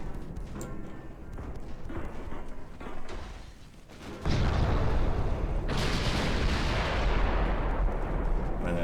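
WWII battleship naval gunfire in Ultimate Admiral Dreadnoughts: a dense, continuous roar of heavy guns and booming blasts that swells sharply partway through and stays loud, with no speech.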